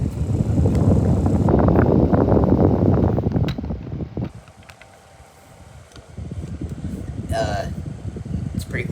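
Sharper Image 5-inch soft-blade table fan running on high speed, a steady, fairly loud airy whir that fills the first few seconds, then drops to a quieter hum with light handling noises.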